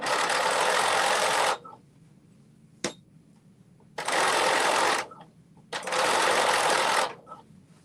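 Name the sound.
sewing machine sewing fabric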